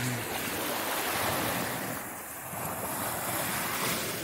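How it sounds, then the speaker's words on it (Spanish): Ocean surf rolls and breaks steadily on a beach at Cancún, a continuous broadband wash with wind noise buffeting the microphone, loud and close throughout with no voices. "El oleaje está bonito"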